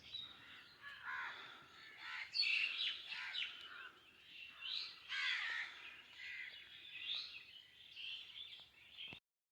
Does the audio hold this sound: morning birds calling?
yes